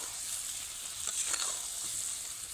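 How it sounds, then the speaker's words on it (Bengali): Raw amla bubbling in melted sugar syrup over a low flame, a steady close hiss and crackle of boiling that swells slightly midway, with no voices. "আর চিনিতে আমলকিটা ফুটছে দেখুন"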